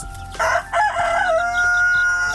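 A chicken crows and clucks nearby, a drawn-out call with a few short clucks after it, over a faint steady background hum.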